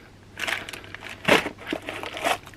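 Plastic bag holding brake caliper gaskets and grease crinkles close up in several bursts, with crisp crackling rustles rising and fading as it is handled, no talking.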